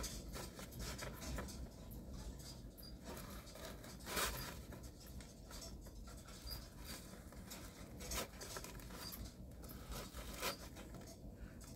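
Pipe tobacco, two-year-aged G.L. Pease Gaslight, being cut and broken up on a small piece of cardboard: steady close scratching and papery scraping with a soft crumbling patter, one sharper scrape near the middle, no talk.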